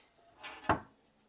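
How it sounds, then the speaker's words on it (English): A quick light scrape followed by a sharp wooden clack as a hidden storage compartment lid in a 2024 Pinnacle 38FBRK RV flips up and knocks into place, close and brief. "Another hidden storage right here that'll flip up."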